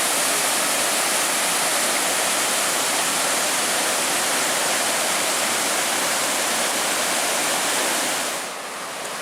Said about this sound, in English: Now we're starting to come up to the Bond Falls Dam. The falls is actually made from this spillway.